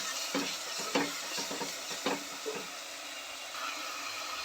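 Ginger paste sizzles in a wide pan under a constant bright hiss, broken by a few stirring scrapes and clinks early on, continuous and close.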